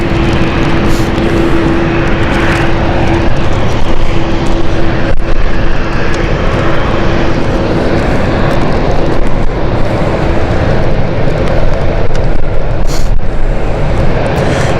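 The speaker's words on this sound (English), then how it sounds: "Moving at the moment, which just went past the camera, is the Edinburgh flight." Passenger jet on the Edinburgh flight taxiing along the taxiway at London City Airport, a loud continuous engine roar and whine passing close by, steady with slight swells, no talk.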